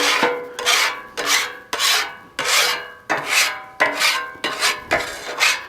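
A metal scraper drags across the cast iron surface of a 28-inch Blackstone folding-leg griddle in about eight loud, close, evenly spaced rasping strokes, each starting sharply and fading out.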